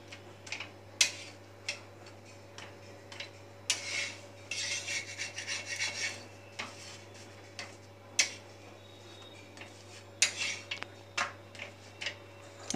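A bhujiya paratha is roasted crisp on a griddle. Sparse, scraping rasps and light clicks come at irregular intervals over a steady low kitchen hum, with no voices.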